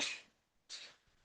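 Two quick sneezes, each a sharp hissing burst, the second after a short pause, fairly close and without talking.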